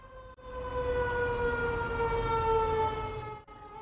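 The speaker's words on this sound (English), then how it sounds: "They all climb aboard the fire truck and turn on the siren and lights." A fire truck's siren wails in a steady, sustained tone, clear and moderately loud, starting and ending abruptly with no voices.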